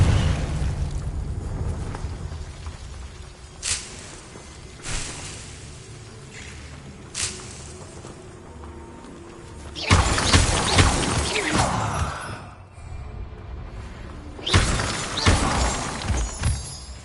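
Confringo fire-blast spell cast in Hogwarts Legacy, a few sharp cracks early on, then heavy roaring explosive bursts with crashing debris, loud and close.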